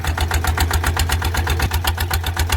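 A loud three-cylinder engine rumbles steadily up close, its exhaust pulsing in a fast, even throb with no voices.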